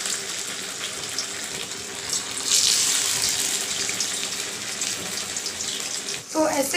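Battered cabbage pakoras sizzle in hot oil in a kadai, a steady loud hiss and crackle up close that swells as the batter goes in, with someone speaking over it.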